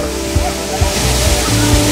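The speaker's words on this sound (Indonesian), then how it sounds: "Jadi ini adalah air terjun Sendang Gila." Sendang Gile waterfall on Lombok, a steady, loud, broadband roar of falling water heard close up, with a faint rhythmic low thumping beneath it.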